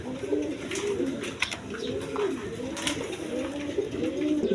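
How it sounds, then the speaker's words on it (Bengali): A pair of Tulip pigeons in almond colouring coo in a repeated, steady rhythm, close and fairly loud against a low background hum, with no talk over them. "এখানে এক পেয়ার টিউলিপ কবুতর আছে"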